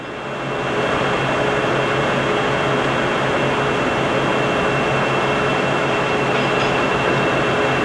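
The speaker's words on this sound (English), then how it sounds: "And now we are threading." A Poreba heavy-duty lathe cutting a thread with the lead screw and half nut engaged, producing a loud, steady mechanical drone with a broad hum that holds evenly for the whole stretch, no talking.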